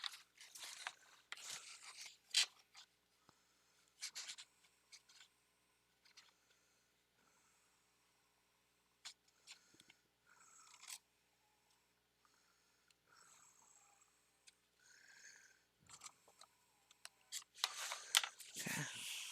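Paper being cut by hand in short, scattered bursts of crisp snipping and rustling, close and fairly quiet, with pauses of near silence between cuts.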